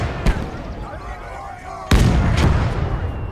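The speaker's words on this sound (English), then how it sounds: "There's a mortar out there." Mortar fire in a World War II video game battle: two sharp booming blasts, one brief near the start and a louder one midway that rolls into sustained rumbling combat noise.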